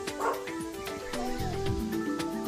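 A dog barks and yips as it approaches, short sharp barks repeating over a steady bed of background music, with a whimpering tone toward the end.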